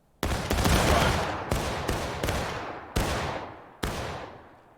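Rifle volley fired on command during a drill, a loud ragged crash of many guns at once followed by several separate sharp shots, each with a long echoing decay.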